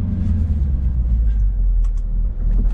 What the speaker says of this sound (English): And we're gonna start off from first gear here.